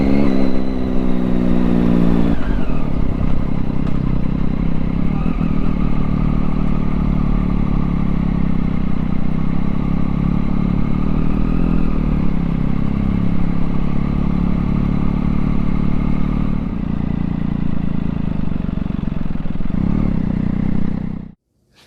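A Triumph Daytona 675 motorcycle engine idles loud and close, holding a steady rumble for about twenty seconds before cutting off abruptly at the end.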